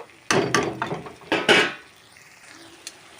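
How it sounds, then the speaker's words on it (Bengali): Pointed gourd (potol) being sautéed in a pan, with a few sharp clanks and scrapes of a spatula stirring against the metal, then a quieter sizzle. "পটলগুলোকে আমি ভালো করে আমি কষিয়ে নেব"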